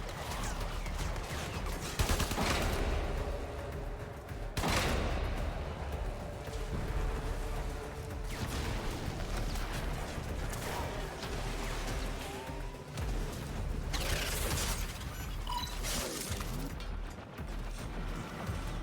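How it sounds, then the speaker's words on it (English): Torpedoes fired in a video game, a dense, roaring barrage of booms and rumbling blasts that swells and recedes continuously, loud throughout with no clear voices. "Fire torpedoes."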